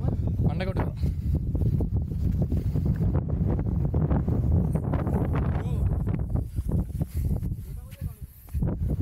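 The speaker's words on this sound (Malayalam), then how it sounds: "നല്ല കാറ്റ് നൈസ് ക്ലൈമറ്റ് നമ്മുടെ കൂടെ പോകുന്നുണ്ട്" Strong wind at a hilltop viewpoint on Calvary Mount buffets the microphone with a steady, rough roar, and a voice talks through the gusts.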